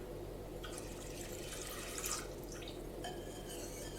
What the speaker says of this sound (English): Okay, it's all dissolved. Let's add the cold water.